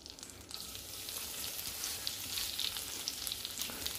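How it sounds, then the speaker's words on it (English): Butter sizzling in a pan with olive oil for a vegetable rice pilaf, a steady close crackle and hiss with small pops running throughout, no voices over it. "Add a bit of butter to it just to give it flavor."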